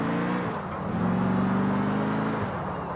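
A video-game police car engine, a custom Ford Crown Victoria in GTA 4, hums and revs continuously, pitch rising and falling with acceleration, steady and moderately loud with no talking.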